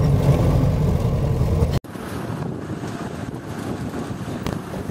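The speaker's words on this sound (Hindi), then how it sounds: "जीप एक 4x4 गाड़ी है और इस तरह ये बनाई जाती है कि ये हर तरह के रास्ते से बआसानी गुजर सकती है।" A 4x4 jeep grinds along the rough mountain road from Naran toward Lake Saiful Muluk, its steady low rumble mixed with heavy wind buffeting the microphone and cut by a brief dropout partway through.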